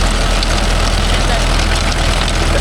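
A Mahindra Yuvo Tech Plus 585 DI tractor with a rotavator attached runs on farmland, giving a loud, steady diesel rumble with a constant low throb and no pauses.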